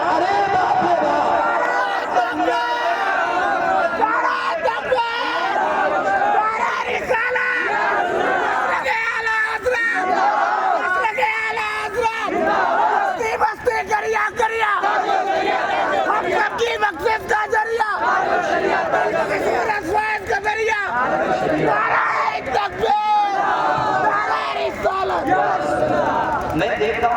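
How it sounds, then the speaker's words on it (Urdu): A large crowd shouts and chants loudly, voices overlapping in rhythmic bursts with constant babble underneath. "بڑی دیر سے بس ایک بھیا نعرہ لگا رہے ہیں"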